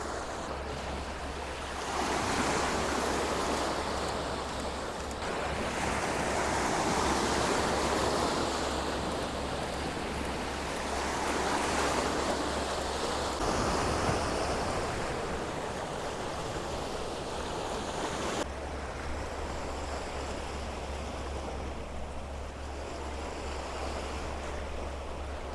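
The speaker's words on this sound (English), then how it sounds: "the occasional wave breaking out on the rocks a little bit further out" Ocean surf breaking on rocks a little way offshore, a steady wash of waves rising and falling at a moderate distance with some wind noise, heard alone at dawn on a coastline with mountains behind.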